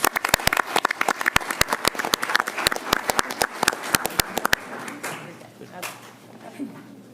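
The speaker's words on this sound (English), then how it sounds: "Another big round of applause for them." Audience applause at a school board of education meeting, several seconds of dense, close clapping that thins out and gives way to quieter room noise.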